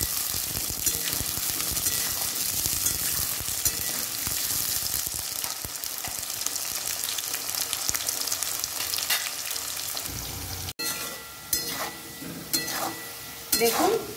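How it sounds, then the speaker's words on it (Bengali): Potato pieces frying in a pan, a loud, continuous sizzle with bursts of stirring and scraping, broken by a brief cut near the end before the frying resumes. "ভালো করে আলুটা ভেজে নেব।"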